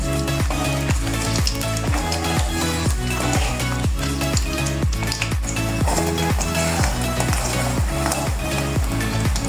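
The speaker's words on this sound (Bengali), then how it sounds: "এবারে তেলের সাথে রসুনটা আমরা বাদামি করে ভেজে নেব।" Crushed garlic and dried chillies frying in oil for olive pickle, a loud continuous sizzle over a rapid regular tapping and scraping, as of a spoon working in the pan, close and steady.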